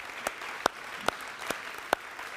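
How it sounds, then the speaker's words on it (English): Sparse applause at a climate-change event, a few distinct claps standing out over a faint, thin patter of hands at a distance. "round of applause"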